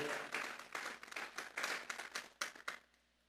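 A church congregation gives applause as an offering to God during a sermon; loud clapping in uneven bursts rises and falls, then fades into quiet.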